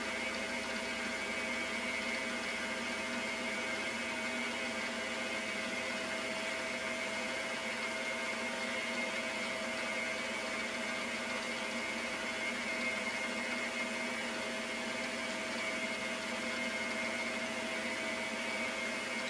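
A milling machine takes the final cut on a steam engine connecting rod for a Stuart Turner twin launch engine, bringing it down to quarter-inch thickness; a steady, even mechanical whine and hum runs unbroken throughout, with no talk.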